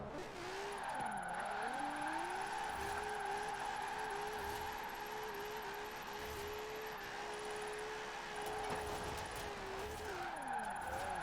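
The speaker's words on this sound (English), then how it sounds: "I'm drifting a lot better here at Fortune Island than I was over there on the twisty roads" Nissan 370Z drift build in Forza Horizon 4 sliding on Fortune Island roads, a sustained engine drone with long wavering tyre squeal as the car holds its drift, steady and fairly loud.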